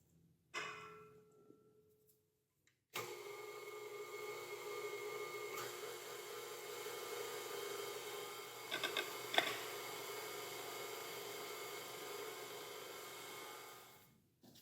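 A stand mixer works homemade glazed donut dough while flour is added little by little, its motor a steady, moderately loud hum that starts after a few quiet seconds and runs on to the end, with a few light knocks and no talking.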